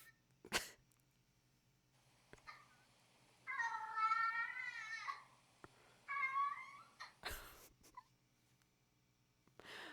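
A house cat meows indoors, two drawn-out, wavering cries a few seconds apart, close and clear against a quiet room, with a couple of sharp thumps or taps around them.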